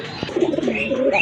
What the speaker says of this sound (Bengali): এটা হচ্ছে একজোড়া লাল রাজগোল্লা কবুতর